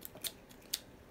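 Pink scissors cutting ribbon, two quick crisp snips close by in an otherwise quiet space.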